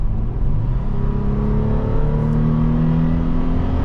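A 2023 Toyota 4Runner TRD Off Road Premium accelerating, its engine rising in pitch in a loud, steady drone heard from inside the cabin with no talking.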